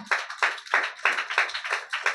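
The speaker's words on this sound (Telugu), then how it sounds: "ఒకసారి అందరూ చప్పట్లు కొడుతూ ప్రభుని స్తుతిద్దామా" A church congregation clapping together in praise, a brisk, even beat of about seven loud, close group claps in quick succession.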